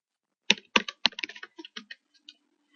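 A password entered on a computer keyboard during a manual WordPress install: a quick burst of crisp, close key clicks in an uneven rhythm, several sharp taps then lighter scattered presses, in an otherwise quiet room.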